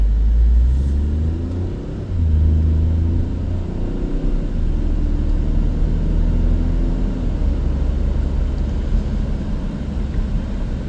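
A brand-new 2026 Toyota GR Corolla turbo pulls away under moderate throttle, a low, steady engine rumble rising in pitch through the gears, heard from inside the cabin, continuous and fairly loud, without speech.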